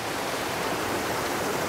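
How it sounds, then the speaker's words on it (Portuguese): Rushing river rapids in the Juréia reserve, a steady broadband wash of churning mountain water that stays loud and continuous throughout with no voices. "são várias corredeiras que a gente vai encontrando aqui"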